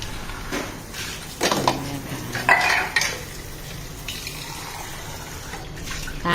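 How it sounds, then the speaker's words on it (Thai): A metal basin and glasses being washed in water by hand: scattered clinks, knocks and splashy scrubbing come in short bursts, close up, with quiet gaps between them and no talk. "ล้างกระมังล้างแล้วก็เอาขึ้น จะล้างแก้วขึ้นจ้ะ"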